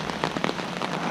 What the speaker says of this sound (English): And it's still raining, and it's still gonna rain